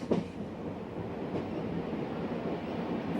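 A Union Pacific Challenger steam locomotive hauls its train uphill through prairie and pine country, a steady broadband rumble of rolling cars with a faint click near the start, heard from a distance with no voices.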